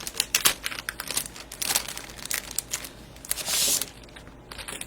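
Plastic packaging is snipped and torn open close by, with sharp crinkles and crackles in quick irregular bursts and a longer rustle near the end, without any voices.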